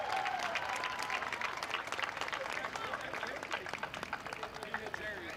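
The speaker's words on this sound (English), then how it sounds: "Everybody give a round of applause for Luke Porco." Spectators at a car race applaud the winner, a sustained wash of clapping from a crowd, with a voice talking over it near the start.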